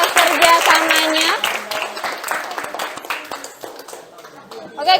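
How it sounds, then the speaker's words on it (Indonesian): A classroom of students applauds a student group, the clapping dense and loud at first, then thinning into scattered claps amid voices and chatter. "kita kasih aplaus untuk kelompok Einstein ya atas kerjasamanya"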